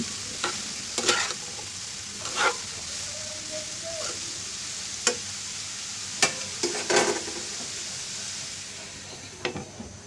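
Salted ridge gourd fries in a pan with a loud, continuous sizzle, broken by occasional spatula scrapes and stirs.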